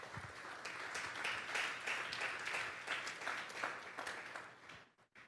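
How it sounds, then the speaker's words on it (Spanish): A church congregation at a Sunday service gives the Lord a round of applause: moderately faint, steady clapping from many hands that swells, holds, then thins out and stops near the end. "Vamos a darle un fuerte aplauso pues al Señor."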